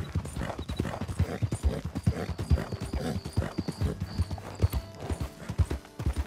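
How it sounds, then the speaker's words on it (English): Hooves of wild horses in Red Dead Redemption 2 clatter in quick uneven clip-clop, close and prominent, with a brief whinny and a faint bark-like sound mixed in. "Oh, are those some wild horses?"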